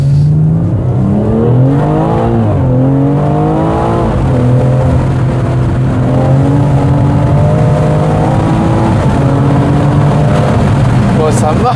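A BMW M240i engine revs hard as the car accelerates along the road, the loud, rising tone climbing through gear changes with a steady drone, heard from inside the cabin alongside some talking.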